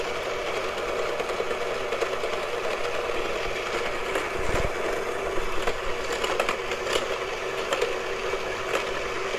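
An electric hand mixer beats butter into the liquid batter for an apple coffee cake, a steady whirring drone running close and continuous with slight variations in pitch.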